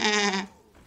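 A sheep bleats in the Hearthstone card game: one short, loud, nasal bleat lasting about half a second, then quiet.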